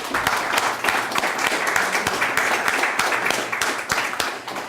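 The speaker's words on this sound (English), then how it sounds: "Another round of applause." Audience applause after a reading at a poetry series anniversary event, a dense, steady wash of many hands clapping that stays loud and even throughout with no talk over it.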